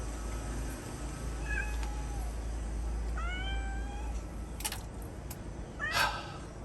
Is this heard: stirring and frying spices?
no